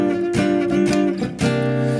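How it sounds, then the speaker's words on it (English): Jazzy rhythm chords strummed on a clean Gibson Les Paul Deluxe electric guitar, a few ringing chord hits that sustain and overlap, close and alone. "You get quite a jazzy sound when you play rhythm,"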